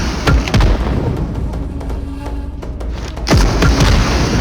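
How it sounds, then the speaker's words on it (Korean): Rocket launcher blasts in PUBG Mobile boom loudly, several heavy explosions with deep rumbling tails, a cluster at the start, quieter distant thuds in between and another big blast near the end. "다 로켓을 쳐 쏘고 있어"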